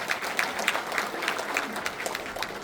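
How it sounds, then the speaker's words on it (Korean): An audience at a constituency report meeting in Cheongju applauds a National Assembly member, a short burst of dense, even clapping with some louder individual claps throughout. "송대문 국회의원님께 다시 한번 큰 박수 부탁드리겠습니다"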